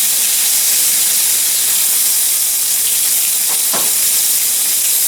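Lamb chops fry on a cast iron grill pan with a loud, dense, continuous sizzle and hiss, steady throughout with a brief scraping or shifting sound midway.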